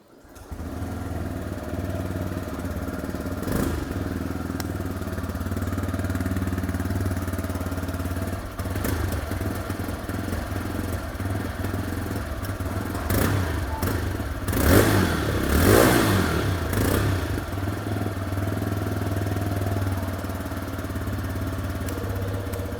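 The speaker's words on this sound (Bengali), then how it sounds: "এই বাইকটা যে লাইট, তার সাথে হচ্ছে এক্সস্টের সাউন্ড, দুটোই আমি আপনাদেরকে একবার শুনিয়ে দিচ্ছি" A TVS Raider 125 motorcycle exhaust runs steadily for over twenty seconds, a close, continuous engine drone with a brief blip of revving near the middle.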